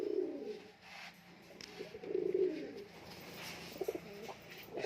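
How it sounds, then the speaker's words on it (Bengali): A male deshi giribaz pigeon cooing close by, soft low throaty coos repeating in short bursts across a few seconds, fairly quiet with faint background noise and no talk. "নরের ডাকটা দেখো"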